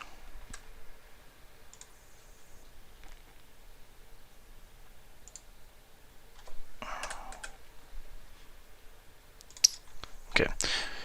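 A computer mouse clicks several times in short, crisp taps while working in an Excel spreadsheet, with a couple of louder handling noises near the end; everything is quiet and close, with no talking.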